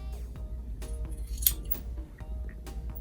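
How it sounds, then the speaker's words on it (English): Scissors trim the yarn fringe of a crochet wall hanging, heard as a series of close, crisp snips at irregular intervals over a faint low hum, with no talk. "you will start trimming and just trim a little bit at a time"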